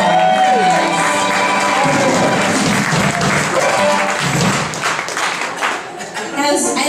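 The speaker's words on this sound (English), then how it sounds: "Have a round of applause for all these tushies up here on the stage." Theater audience applauds performers on stage, loud sustained clapping with cheering and crowd noise, voices audible over it, swelling and dipping slightly before continuing.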